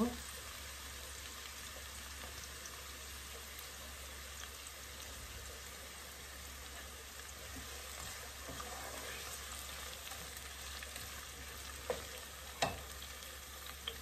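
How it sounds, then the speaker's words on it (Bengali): Onion and garlic frying in a pan make a faint, continuous low sizzle with a steady background hum and a few small clicks and knocks near the end. "এটার মধ্যে কিছু পেঁয়াজ বেরেস্তা করে নিব ভর্তার জন্য।"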